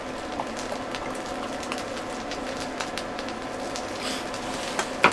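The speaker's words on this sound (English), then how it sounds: "So let me just pour this. It's a 660ml bottle." BrewDog beer is poured from a 660ml bottle, making a continuous fizzing, bubbling pour with crackling foam and a few small clinks near the end, close up and without speech.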